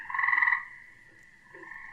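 Tree frogs croak in a loud, buzzy trill for about half a second, then a fainter, steadier croaking carries on in the background, swelling again near the end, with no voices.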